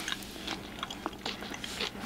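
Crunchy tater tot nachos get bitten and chewed up close, a quick series of soft crisp crunches and mouth sounds, quiet and alone.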